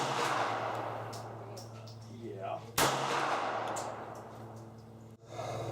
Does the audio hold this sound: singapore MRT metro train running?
no